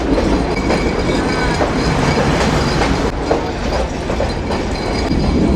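Onboard a Benapole to Dhaka train passing Jhikargachha station on Bangladesh's old railway, loud steady rumbling and clattering wheels fill the air, with light rhythmic clicks and a thin squeal running throughout.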